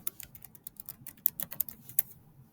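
Quick, uneven keystrokes on a computer keyboard as an assignment title is entered in Google Classroom, light clicky taps clustered in bursts, close and fairly quiet with no talking.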